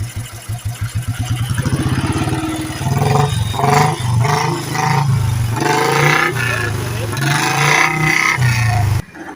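An old BSA motorcycle from London, around seventy years old and still original, fires with a rapid thumping idle, then is revved hard in loud, repeated roaring bursts up close before cutting off.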